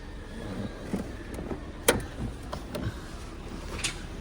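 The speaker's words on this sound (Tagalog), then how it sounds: "maingay daw makina pagkatapos i-change oil" A Mitsubishi Xpander engine idles after an oil change, a steady mechanical hum with irregular ticking and clicking knocks, one sharp click standing out near the middle, heard up close with no talk.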